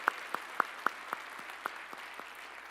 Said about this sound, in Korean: 우리 하나님께 우리 찬양을 받으실 하나님께 큰 영광의 박수 올리시겠습니다